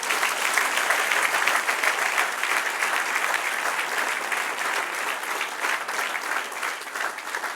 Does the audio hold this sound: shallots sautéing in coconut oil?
no